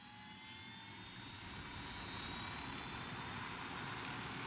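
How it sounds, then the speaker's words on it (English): Helicopter flying in the video game Ghost Recon Wildlands, a steady loud whirring engine drone that holds constant throughout without any talk. "My chopper flies fast without you in it."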